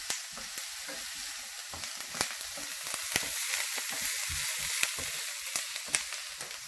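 Onions crackle and sizzle steadily in hot oil for rajma, a dense continuous fry with frequent sharp pops spread across the clip, close and fairly loud with no voices.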